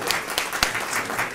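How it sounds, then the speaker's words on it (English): Brief burst of crowd applause for a U.S. senator at a public event about federally funded projects, dense clapping with a few sharper individual claps standing out. "Give a round of applause for Senator Schumer."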